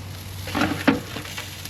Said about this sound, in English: It's time to take the pork off the grill.